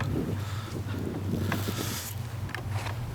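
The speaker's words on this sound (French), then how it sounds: "Il y a un peu de vent." Wind blows steadily outdoors beside an abbey, a continuous low rush with gusty microphone buffeting and faint rustles throughout.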